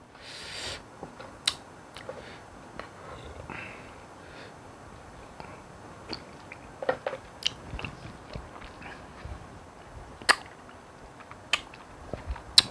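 Close chewing and crunching of spicy green papaya salad with boiled eggs, with scattered wet bites, smacks and occasional sniffs, steady and intimate.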